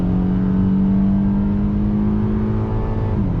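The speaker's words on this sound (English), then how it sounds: "acceleration from a slow roll here on throttle. Nice firm shifts." A 2020 Acura TLX A-Spec with a little over 200 horsepower accelerates from a slow roll, its engine drone steady and close from inside the cabin, pitch holding then dipping briefly near the end as it shifts firmly.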